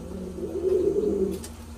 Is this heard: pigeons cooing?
yes